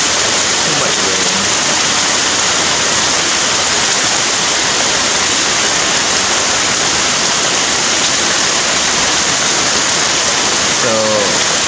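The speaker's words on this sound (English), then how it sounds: "You can see very heavy rain." Heavy, continuous rain pours down in an evening downpour with a steady, dense hiss that fills the scene, while brief faint voices surface near the start and end.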